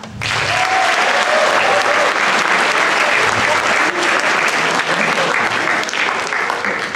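Loud, sustained applause from the audience at a Ninth District congressional debate in a high school hall, dense clapping that swells quickly and holds steady, with a few faint voices underneath.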